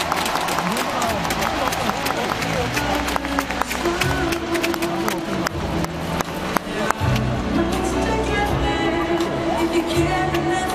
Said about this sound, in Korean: 두 명의 어린이 따뜻한 박수로 환영해 주시기 바랍니다